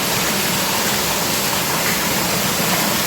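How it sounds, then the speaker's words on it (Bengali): Water pours down from above at a rainy waterfall in Lasubon Canyon, a loud, close, unbroken hiss and rush of falling water with no talk over it. "এই যে উপর থেকে পানি পড়ছে"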